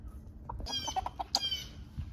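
Chickens cluck in a short burst of several calls, fairly close, over a low rumbling background.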